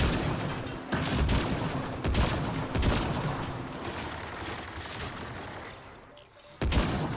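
Sustained automatic fire aimed at a turret in Mass Effect: Andromeda, a loud, continuous stream of shots with periodic heavier bangs, fading slightly before a final burst.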